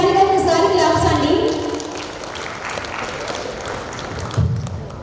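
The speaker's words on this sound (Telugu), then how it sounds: "గాయత్రి గారికి ఒకసారి కమాన్ హుషారుగా ఒకసారి క్లాప్స్ అండి" An audience at a family get-together applauds in a lively burst that fades into steady clapping, while a person talks over the first part.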